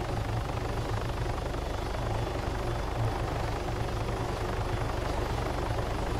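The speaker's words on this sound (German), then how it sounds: "da kommt auch schon der nächste polnische Hubschrauber" A Polish helicopter approaches in the Altis Life game, its rotor a loud, dense, continuous thudding drone held steady throughout, alone with no talking.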